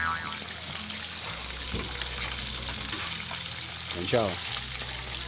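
Gourami fish from Laguna Lake fries in hot oil with a continuous near sizzle and spatter, while a person speaks briefly over it.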